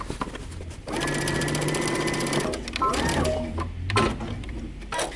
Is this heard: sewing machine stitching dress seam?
yes